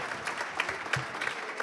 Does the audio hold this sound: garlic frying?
no